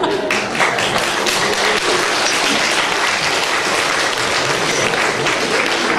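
Audience applause after a Ukrainian village folk song concert, a dense, steady wash of many hands clapping close and loud throughout, with no voices standing out.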